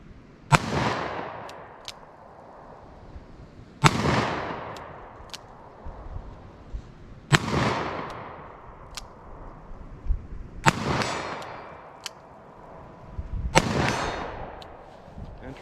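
A Smith & Wesson Governor revolver fires .410 slugs outdoors: five loud, sharp shots spaced about three seconds apart, each followed by a fading rumble and echo.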